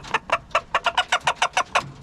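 Chocolate Wyandotte chickens on a farm give a steady run of about a dozen short, evenly spaced clucks, close and clear with no talking.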